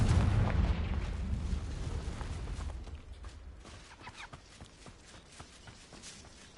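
A Confringo fire spell blasts in Hogwarts Legacy: a loud, booming burst with a heavy low rumble opening the moment, decaying into crackling, scattered impacts and faint clatter that fade quieter toward the end.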